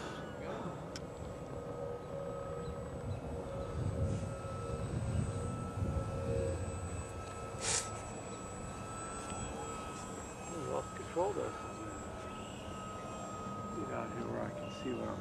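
A distant airplane engine hums steadily in the background, swelling slightly at times, with faint voices and outdoor noise around it.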